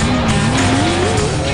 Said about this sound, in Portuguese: quem adora o som de um motor